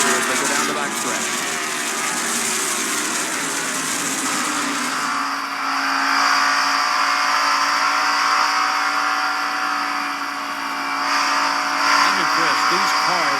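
In-car view of a NASCAR stock car racing down the Darlington backstretch right behind another car in the 1990 Heinz Southern 500, a loud sustained engine roar with shifting pitch, under a commentator talking.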